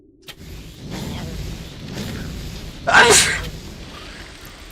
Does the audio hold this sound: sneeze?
yes